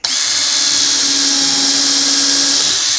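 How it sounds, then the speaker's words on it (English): A power drill with a countersink bit whirs steadily for about three seconds, a continuous high-pitched grinding whine at close range with no pauses or talk. "Got a drill bit with the countersink on it."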